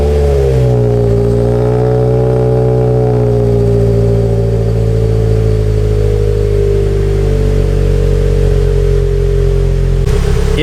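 A car fitted with a RoadsterSport Super Q muffler runs with a loud, steady engine drone and low exhaust rumble, a brief rise in pitch early on, then settling into an even hum.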